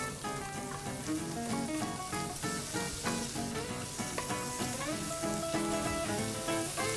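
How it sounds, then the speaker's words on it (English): Onions frying in a pan for a chicken recipe give a steady, close sizzle throughout, heard under a bed of background music with no talking. "Put in the onion. Let that cook till it's a nice translucent in color."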